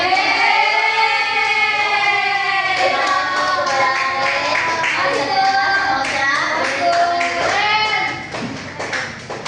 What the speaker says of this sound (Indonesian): boleh tepuk tangan untuk teman-teman